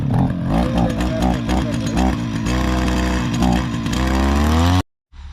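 A small two-stroke brush cutter engine runs steadily and loudly, its pitch rising slightly toward the end before it cuts out abruptly.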